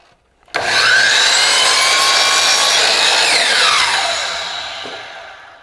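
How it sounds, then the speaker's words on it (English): Miter saw cutting through wooden window casing: a loud, close whine bursts in suddenly, holds steady for several seconds and then winds down. "this piece of casing is sitting on my miter saw"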